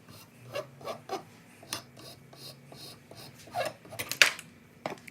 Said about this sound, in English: The file, kind of take the hard edges off.